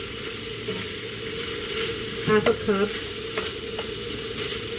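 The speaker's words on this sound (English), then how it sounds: "since the pan is hot, it just sizzles" Chicken pizza bake mixture sizzles in a hot pan on a stove that has just been switched off, a steady close hiss broken by a few louder scraping stirs, with a brief spoken phrase over it.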